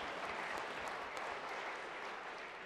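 A political party conference audience gives a speaker a round of applause, a brief, fairly faint wash of clapping from a large hall that fades slightly toward the end.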